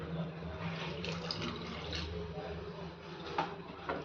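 Water poured into a palak garagata spinach mixture in a kitchen, a steady, close liquid flow running throughout at moderate level, with a low room hum beneath.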